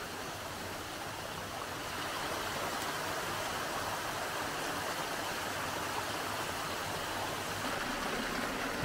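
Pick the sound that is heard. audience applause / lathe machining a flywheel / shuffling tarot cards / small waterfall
small waterfall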